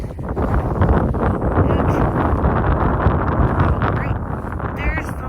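Strong wind buffets the microphone outdoors on a cold winter rockhounding outing, a loud, continuous low roar with gusty surges throughout and no clear talk over it.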